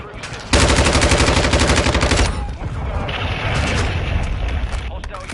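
Heavy in-game explosion and sustained rumbling gunfire from a cruise missile strike in Modern Warfare 2, loud and dense for about two seconds, then easing into a lower rumble with scattered game noise.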